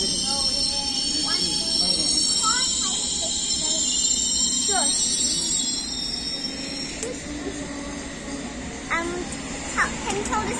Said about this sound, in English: Can you tell this train to be quiet?